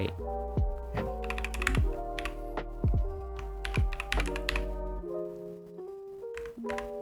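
Close, rapid clicking of computer keyboard keys while writing Python code, ending with presses of the enter key, over a soft musical tone in the background.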